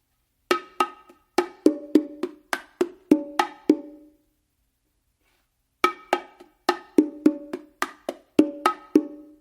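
Solo bongos play a martillo pattern, with open tones mixed among sharp dry strokes in two steady rhythmic phrases separated by a two-second silence, close and clear.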